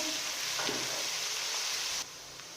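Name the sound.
arbi (taro root) and potato frying in a pan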